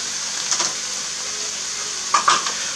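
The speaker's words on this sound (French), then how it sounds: "on va remuer encore un peu" A utensil stirs chicken liver mousse mixture in a pan over a faint steady sizzle, with two brief scraping and clinking bursts close up.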